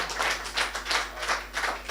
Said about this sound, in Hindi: तालियां बजाएं और शाश्वत सिंह दर्पण से मुलाकात